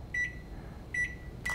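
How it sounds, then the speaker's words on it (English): Two short electronic beeps from a microwave oven sound about a second apart as a bag of steamed vegetables goes in, clear and fairly close over low hum, and a faint clunk follows at the end. "throw it in the microwave"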